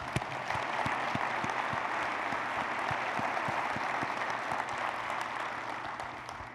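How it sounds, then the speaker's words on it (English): Conference crowd at an opening ceremony giving a round of applause for the staff: sustained, even clapping from many hands with a few sharper individual claps up front, gradually easing toward the end. "Can we please give my staff a round of applause?"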